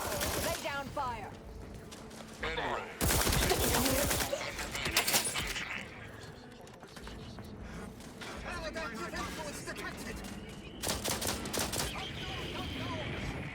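Bursts of rapid gunfire from a firefight in The Outer Worlds 2, loud volleys separated by short gaps, with game sounds and bird-like chirps between them.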